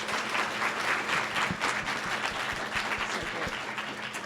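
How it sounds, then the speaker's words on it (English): Audience applause for a live captioner at the close of a LISA19 conference talk: steady, dense clapping from a seated crowd, sustained evenly for a few seconds with sharp individual claps standing out near the front. "can I just get a round of applause for our awesome live caption person?"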